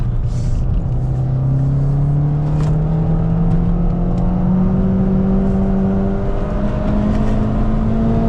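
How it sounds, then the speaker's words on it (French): A Peugeot 206 engine revving high under hard acceleration, a loud continuous drone whose pitch climbs steadily through a long gear, heard from inside the car with no talking. "ça prend des tours à n'en plus finir"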